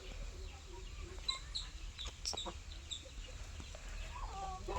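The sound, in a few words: chickens clucking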